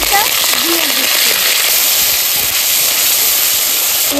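Cumin paste hitting hot oil in a pan while cooking Bengali mochar ghonto (banana blossom curry), a loud, steady broadband sizzle and hiss that runs unbroken through the clip, with a voice speaking over it.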